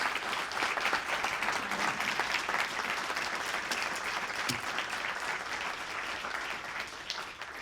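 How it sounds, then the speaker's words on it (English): An audience at a talk on the history of the Santa Fe Trail breaks into steady applause, dense clapping from a crowd that holds for several seconds and fades slightly toward the end. "Give them all a round of applause."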